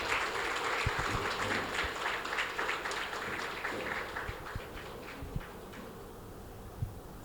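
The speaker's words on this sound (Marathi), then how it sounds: "जोरात टाळ्या आपल्या सगळ्यांसाठी होऊन जाऊ देत" Audience applause at the Aanchal Award Season 4 ceremony in a hall, a sustained crowd clapping that carries throughout, fairly distant and even, thinning slightly toward the end.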